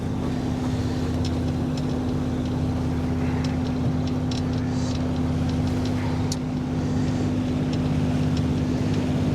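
A boat's inboard engine drones at raised revs while motoring through water, a steady low hum with constant tone, wind and water noise layered over it throughout.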